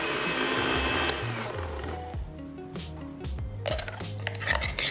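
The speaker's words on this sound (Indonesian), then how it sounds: "Kita blender, bisa ditambahkan dengan air ketika memblender atau juga kita bisa tambahkan dengan minyak sedikit." An electric kitchen blender grinds spice paste with water or a little oil added, running loud and steady for about two seconds before stopping, followed by clattering utensils and dish knocks.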